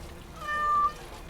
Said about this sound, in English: Oh, stop picking on the cat, Ogrin.